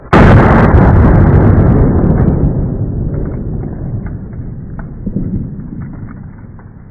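A G2 Research RIP 9mm round fired into a poultry target gives one loud, close gunshot blast with a sharp crack at onset, then a long rumbling decay that fades over several seconds.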